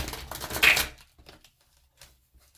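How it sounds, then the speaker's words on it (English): Tarot cards are riffled in a quick burst of papery flutter lasting under a second, followed by a few faint taps and soft handling sounds in a quiet room. "I'm going to shuffle 3 shuffles."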